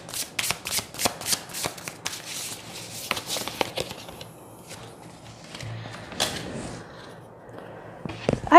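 Tarot cards are shuffled by hand in a quick series of crisp, riffling pats that come in clusters. They are close and clear at first, then grow sparser and softer, with no speech.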